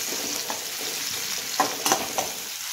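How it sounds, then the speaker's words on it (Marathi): Chopped tomatoes sauté in hot oil with a masala paste, a steady close sizzle broken by a few sharp scrapes and clinks of the stirring spoon against the pan. "आधी आपण टोमॅटो परतून घेऊ."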